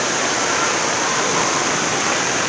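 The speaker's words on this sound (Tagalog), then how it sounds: "biglang lumakas ang ulan itong hapon" Heavy afternoon rain pours down in a steady, dense hiss that stays loud and unbroken throughout, with no voices over it.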